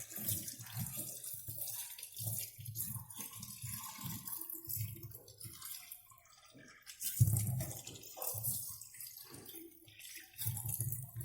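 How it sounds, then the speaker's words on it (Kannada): Tap water runs over a toothbrush being washed, coming in intermittent splashing bursts of flow with brief quieter gaps, close and clear. "ಇವಾಗ ನೋಡಿ, ನೀಟಾಗಿ ನಾನು ನೀರು ಹಾಕಿ ತೊಳಿತಾ ಇದ್ದೀನಿ."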